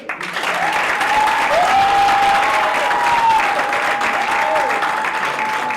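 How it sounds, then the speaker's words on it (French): Steady, loud applause from guests at a civil wedding ceremony fills the room for several seconds, with a faint tone or whistle running through the clapping. "Vous devez applaudir pour eux."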